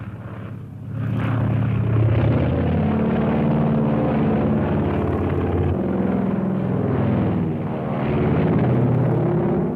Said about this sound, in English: No, it couldn't be. I never saw that plane before.